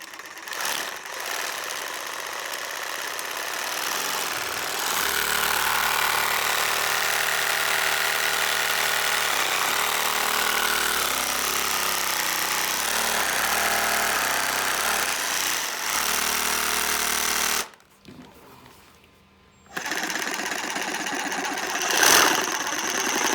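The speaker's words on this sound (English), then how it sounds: "Place it in the Sawzall." Reciprocating Sawzall saw running steadily and loud for about eighteen seconds while it shakes a clamped paint can, then a brief pause before it starts again.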